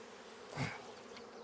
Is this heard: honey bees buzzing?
yes